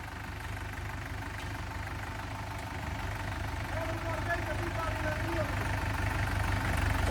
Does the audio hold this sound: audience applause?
no